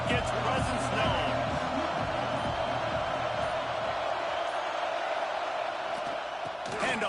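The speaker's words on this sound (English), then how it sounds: "This crowd ready to make its presence known." Stadium crowd in the College Football 26 video game, a dense, loud, continuous roar and cheer of a packed college football stadium filling the whole stretch, with band-like tones early and a commentator's voice over it.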